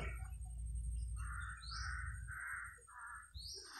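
Several harsh crow caws in a short sequence, moderately distant, over a low rumbling outdoor background.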